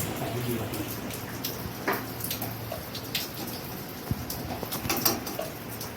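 Heavy rain with gusting wind shakes a mango tree outside, a broad steady wash of noise with scattered louder drips and knocks, while a person speaks faintly beneath it.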